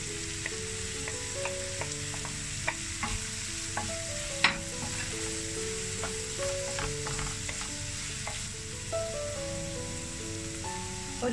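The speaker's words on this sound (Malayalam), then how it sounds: "തേങ്ങാക്കൊത്ത് ചേർത്ത് കൊടുക്കാം" Coconut pieces sizzle in hot oil for achinga payar mezhukupuratti, a constant close hiss punctuated by clicks and scrapes as a spoon stirs them around the pan, with a few louder knocks.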